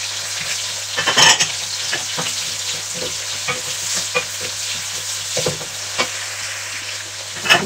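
Ginger and onion sauté in a preheated hot pan with a continuous crackling sizzle, punctuated by irregular spatula scrapes and knocks against the pan, close up with no voices.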